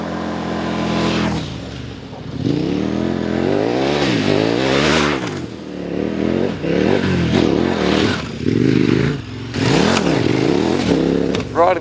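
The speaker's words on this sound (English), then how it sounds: "Riding this big bike, the big 1190 in the bush," A KTM 1190 Adventure R motorcycle ridden through the bush, its engine loud and close, revving up and down repeatedly with sharp throttle bursts and brief dips.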